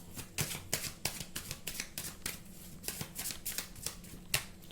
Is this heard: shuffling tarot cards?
yes